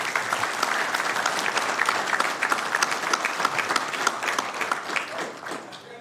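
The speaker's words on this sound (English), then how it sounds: "Another round of applause for contributions 2023 for Latino" Steady, dense applause from the audience fills a Sacramento City Council meeting during a Latino Heritage Month recognition, sustained throughout and easing slightly near the end.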